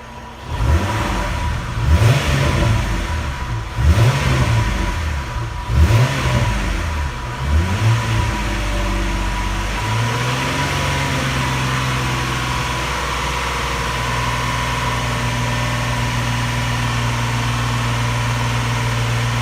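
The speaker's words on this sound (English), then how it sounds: "let me go to the car and give it some gas" A car engine is revved in several sharp rising pulls during the first half, each surging and falling back. It then settles into a steady, loud idle hum that holds to the end. Nobody speaks.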